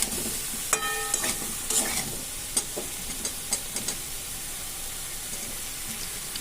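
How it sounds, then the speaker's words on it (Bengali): Chopped tomatoes drop into spiced ridge gourd frying in a pan for a prawn curry, followed by scattered stirring scrapes and soft clinks over a steady low sizzle, fairly quiet and close. "এবার দিয়ে দেবো কেটে রাখা টমেটোগুলো।"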